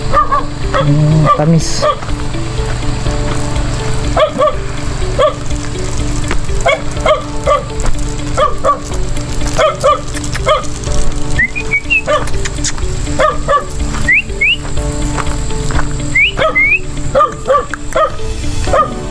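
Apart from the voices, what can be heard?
dog barking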